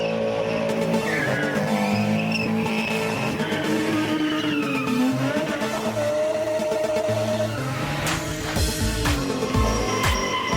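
Cars spin and drift on a spinning arena at a motorsport event, loud engines roaring and revving throughout while tires squeal in long wavering screeches, with louder bursts near the end.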